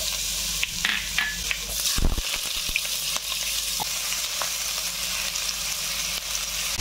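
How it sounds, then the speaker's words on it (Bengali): Dry red chillies and chopped garlic fry in about two spoons of hot oil in a kadai: a steady close sizzle and crackle, with a few scraping stirs and small pops partway through. "তেল গরম হয়ে গেছে, শুকনো লঙ্কা দিয়ে দিলাম, একটু রসুন কুচি।"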